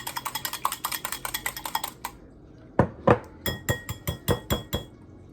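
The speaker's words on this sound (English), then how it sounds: "So make sure you mix it up really well." Batter being mixed in a bowl for southwest taco eggrolls, a fast run of clinking whisk or spoon strikes against the bowl, then a pause and a slower series of sharper, louder knocks, with no talking.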